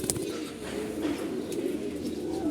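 Pigeons coo continuously and close by in a home loft that includes a red-eyed older-breed pigeon, with soft overlapping coos and a few faint chirps and no talking.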